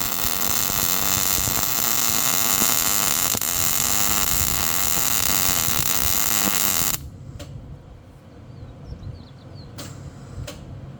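Wire welding on a trailer produces a loud steady buzzing hiss for several seconds, then cuts off abruptly, leaving a quieter background with a few faint ticks.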